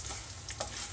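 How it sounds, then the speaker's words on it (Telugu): Tempering seeds and curry leaves fry in hot oil for an onion garlic chutney. A faint, brief crackling sizzle runs steadily, with a couple of sharper pops and no talking. "ఇది కొంచెం తాలింపు వేగనిద్దాం."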